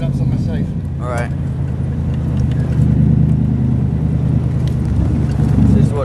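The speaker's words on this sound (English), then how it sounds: "This is what driving a DBR1 in Monaco is like." An Aston Martin DBR1 drives through the streets of Monaco, its engine a loud, close, throaty drone that builds gradually across the run, with a brief mechanical clatter early on.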